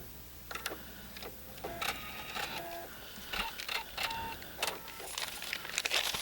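A sewing machine stitches quilt block pieces along marked lines. Quiet, uneven mechanical ticking and whirring comes in short bursts and pauses, with clicks and brief rattles mixed in.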